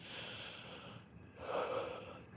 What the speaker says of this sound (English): Excuse me for my yawn.